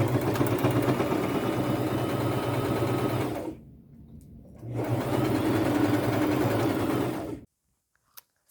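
Sewing machine stitching a dress with golden brown thread, a close, fast steady whirr running about three seconds, stopping briefly, then running again for another stretch before falling silent.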